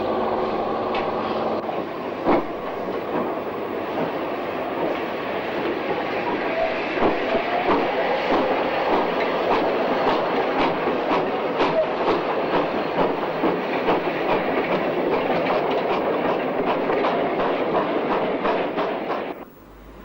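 A 1962 steam train hauled by Hall-class locomotive 6938 Corndean Hall rumbles past close by, bound from Plymouth toward Wolverhampton. Its wheels clack steadily and rhythmically for around twenty seconds before the sound drops away sharply.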